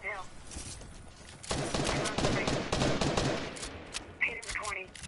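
Rapid bursts of video game gunfire crackle through a battle-royale duo match, a dense automatic rattle lasting several seconds at moderate distance, with brief voices at the start and end.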